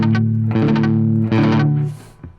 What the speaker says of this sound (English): The next technique we're gonna look at is called raking, and it's kind of mixing between palm muting and downstroking